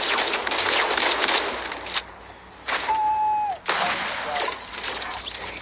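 Rapid video game gunfire in bursts, loud bright crackling volleys that break off briefly and resume, with a short electronic tone in one gap.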